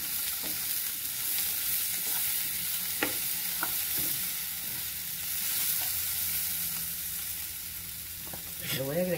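Tomato and salt frying in a hot pan give a steady, close sizzle, with a few soft clicks of the utensil and a louder crackle near the end.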